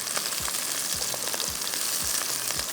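Green chillies and onion frying in a pan, a steady close sizzle with a few soft regular thumps beneath it.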